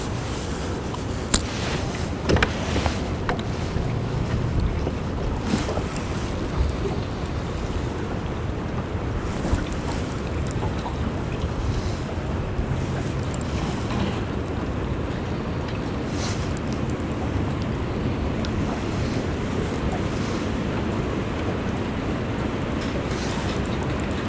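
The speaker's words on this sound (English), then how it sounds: "I'm sure you can hear the wind up on the bluff and the trees." Strong north wind gusting over a river near a dock and roaring through trees on a bluff, steady rushing noise with buffeting against the microphone and a few small knocks, no voices.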